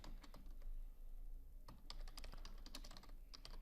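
Text is typed on a computer keyboard in a steady run of soft, quick key clicks, heard close up over a low background hum.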